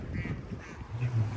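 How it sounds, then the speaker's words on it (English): Ducks quacking outdoors, a short run of nasal calls at moderate distance, a few quacks close together, with faint background murmur. "I hear the ducks over there"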